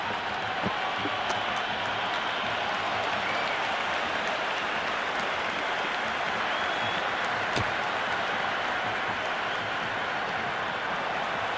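A stadium crowd in a cricket video game roars and cheers after a six, a dense, steady wash of distant noise that stays at an even level throughout.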